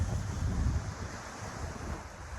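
Sea waves roll in at a seaside spot in Nakhon Si Thammarat province, Thailand, as a steady broad surf roar mixed with buffeting wind noise, with no voices.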